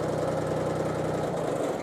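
A 2012 Kubota BX2360 compact tractor with loader and belly mower runs steadily nearby, its small diesel idling with a low, even throb and mechanical rattle throughout, with no voices.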